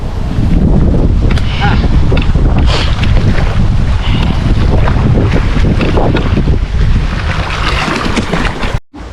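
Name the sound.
strong wind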